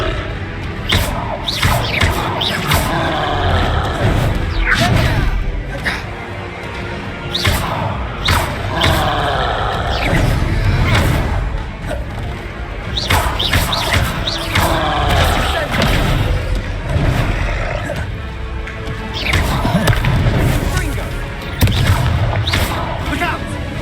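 Confringo fire spell blasts cast repeatedly in the video game Hogwarts Legacy, heavy booming bursts and thuds recurring throughout a loud, dense stretch of combat noise with voices shouting over it.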